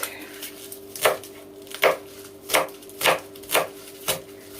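A knife cuts stinging-nettle meatball ingredients on a chopping board, with seven or eight distinct, fairly evenly spaced thuds over a low steady background hum.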